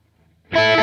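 Distorted electric guitar plays a quick burst of four sixteenth notes, picked down-up across the top two strings in a movable rock lick, starting loud and sustained after a short quiet lead-in.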